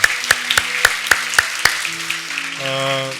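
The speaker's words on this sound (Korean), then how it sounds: "우리 다시 한번 더 하나님 앞에 감사의 박수 올려드리도록 하겠습니다." Church congregation clapping in thanks to God during a Sunday service: sharp claps fall on a steady beat alongside sustained keyboard-like tones, and the notes swell into fuller held chords near the end.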